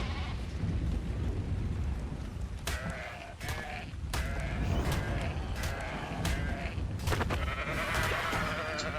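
Sheep in the video game Ark: Survival Ascended bleat repeatedly, several loud calls standing out over a constant rumbling in-game background.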